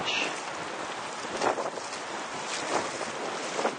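Wind gusting around a model sailboat on open water during a test in 20 mph winds, a continuous broadband rushing and buffeting with brief louder gusts and microphone rumble.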